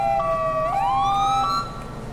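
A police car siren in the video game GTA V with the LSPDFR mod gives a clear electronic wail that sweeps upward in pitch, close and prominent with no talk over it.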